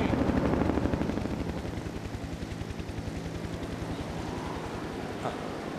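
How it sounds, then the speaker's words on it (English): A helicopter passes close overhead in the Rocky Mountains, its rotor thudding in a fast steady pulse that gradually eases as it moves on. "Sounds like a helicopter to me."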